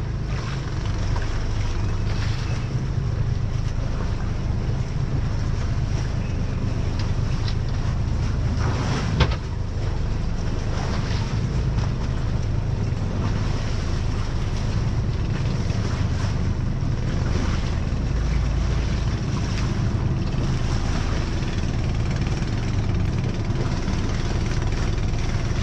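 A boat's propeller churns as the craft travels over clear water, a continuous rush of engine and water mixed with steady wind buffeting that holds for the whole stretch without speech.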